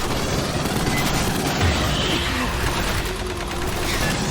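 Continuous gunfire rattles against synthetic enemies in Aliens: Fireteam Elite, a steady dense barrage of shots with booming impacts mixed in, with voices faintly underneath.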